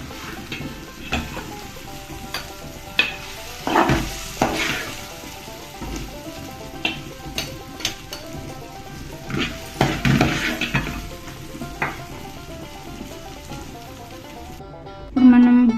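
Onions sizzle and fry steadily in a pan while being stirred, with recurring scrapes and clinks of a utensil against the metal throughout; no one speaks, and a louder clatter comes near the end.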